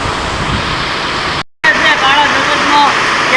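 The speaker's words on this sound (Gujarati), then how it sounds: "અત્યારે એવડો વરસાદ પડે છે ને મારો અવાજ પણ તમને હરખો સંભળાતો નહીં હોય" Heavy rain pouring outdoors as a loud, steady roar with a brief dropout in the middle, and faint voices under the downpour.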